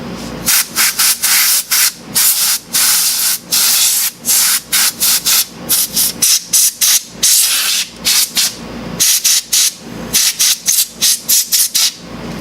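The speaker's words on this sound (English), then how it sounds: "let me spray a little can of compressor air to remove" Loud, close hissing sprays from a can of compressed air in short repeated bursts, some quick and clustered, others held longer, with no talking.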